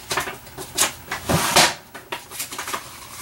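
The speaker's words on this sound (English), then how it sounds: "She loves when I open up my scrap drawer to get a color out." A scrap drawer full of colored paper scraps is pulled open in a crafting room, giving a series of close scraping slides and rustling paper bursts in uneven pulses, with no talking.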